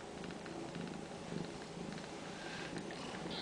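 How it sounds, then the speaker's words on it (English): A Ragdoll kitten purrs steadily and close up, a continuous soft rumbling that carries on without a break and with no talking. "Is that where the kittens purr?"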